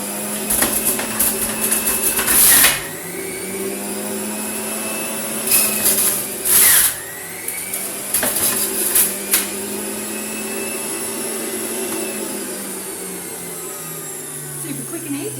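A juicer runs loudly while pressing ginger for an antioxidant juice, a steady motor whine broken by short harsh grinding bursts as pieces feed through, close up with no talking.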